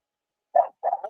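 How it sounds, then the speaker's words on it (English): A dog lets out two short, sharp barks, the second a doubled yap, against a silent background with no other sound. "what the hell are you even barking?"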